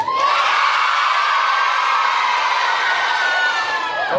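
A packed pantomime audience at Puss in Boots bursts into a big cheer, a loud, sustained wash of shouting, whooping children and adults that holds steady throughout.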